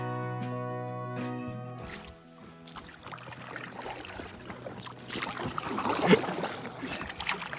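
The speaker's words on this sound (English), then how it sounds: "I don't think this boat is meant to be paddled from the front, Kelsey." Paddle strokes splash and drip in river water as a boat is paddled from the front, with soft sloshing and trickling, after a sustained musical tone fades out near the start.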